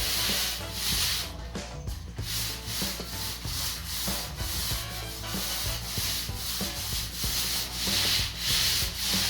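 Paint roller working an interior wall, a steady wet rubbing and sanding-like swish repeating in strokes, close and continuous without speech.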